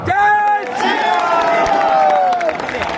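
A rally crowd cheering and clapping, loud and dense, with a voice shouting over the noise.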